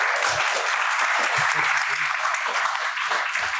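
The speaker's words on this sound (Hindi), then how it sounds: "चलो ताली बजाओ हमारे में" Students in a coaching batch clapping for NEET toppers, a sustained crowd applause that stays even and full throughout, with a faint voice briefly underneath.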